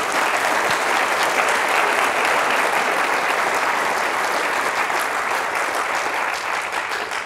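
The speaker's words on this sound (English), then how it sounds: "Would you mind giving them a round of applause?" Conference audience at a keto event in Salt Lake giving a round of applause, a dense, loud, sustained clapping that holds for several seconds and tapers slightly at the end.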